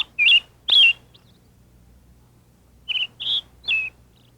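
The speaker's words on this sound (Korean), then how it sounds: "새하얀 작은 새가 나뭇가지에 앉아있다가 헨델과 그레텔에게 따라오라고 했어요" A small white bird on a tree branch gives clear, close chirps in two groups: two quick tweets, a pause, then three more, over a quiet background.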